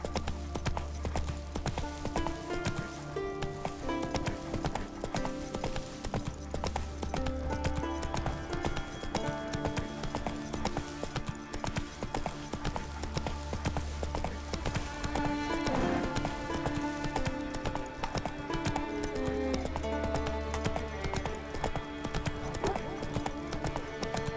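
Geralt's horse Roach trots in The Witcher 3, hooves clip-clopping in a steady rhythm beneath continuous in-game music.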